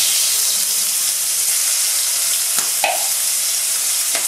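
Cumin and green chilli paste sizzle in hot oil over a low flame, a steady loud frying hiss throughout with a couple of faint clinks of stirring.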